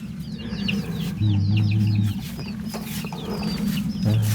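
Chickens and ducks in a Thai farmyard cluck and call over one another in repeated, overlapping bursts close by, above a steady low background drone.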